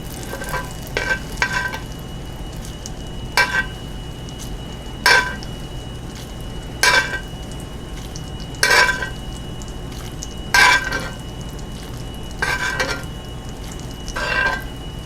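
Butter sizzles in a hot cast iron skillet for cornbread, a steady soft hiss punctuated by about a dozen sharp, evenly spaced scrapes and clinks of a spoon against the pan.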